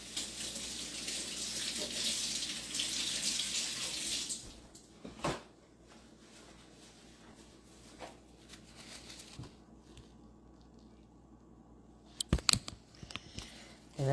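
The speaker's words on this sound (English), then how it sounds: "let me wash my hands" Water runs from a tap for a few seconds of steady splashing as hands are washed, then the flow stops, leaving quiet with scattered clicks and knocks nearby.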